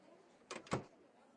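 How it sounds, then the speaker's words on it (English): A car door being pushed open in the video game Reverse: 1999: two quick, close mechanical clunks in succession against a quiet background, with no talking. "Pushing open the door"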